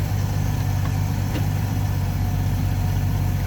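Classic Chevy engine idling steadily with a low, even rumble after sitting parked for years, running warm and close, with no change in pitch or talking throughout.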